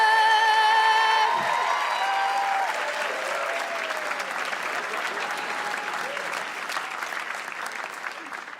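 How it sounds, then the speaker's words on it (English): A comedy club audience welcomes a comedian onstage with loud, steady applause and cheering that carries on throughout, with a brief musical sting fading at the start. "Let's get some love in here and crazy screaming."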